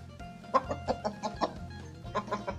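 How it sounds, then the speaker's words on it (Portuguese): Chickens in a backyard vegetable garden cluck in a run of short, close calls, about eight bursts coming in quick uneven succession over a low steady background, with no talking. "As galinhas tá achando que vou botar folha para ela."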